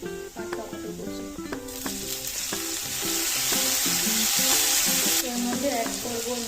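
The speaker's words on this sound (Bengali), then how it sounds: "পেঁয়াজ ভাজা হয়ে গেছে, এর মধ্যে আমি অ্যাড করবো" Onion sizzles in hot oil in a pan as two green chillies and chopped tomato go in, for a home-style potato, eggplant and bori curry; steady close frying with stirring clinks, the hiss swelling louder midway.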